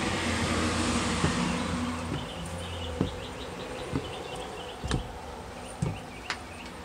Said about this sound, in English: Got bees coming at me.